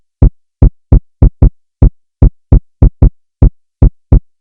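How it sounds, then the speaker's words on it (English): Short, punchy electronic kick drum sample in a hip-hop beat, about fourteen tight hits in a syncopated pattern, loud and dry with nothing else playing. "that kick's going to play this pattern"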